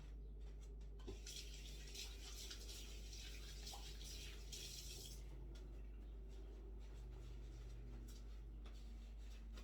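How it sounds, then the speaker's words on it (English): Tap water runs into a sink during hand washing, a soft steady splash with brief bursts of louder spray, faint and close over a low background hum. "Let me wash my hands now."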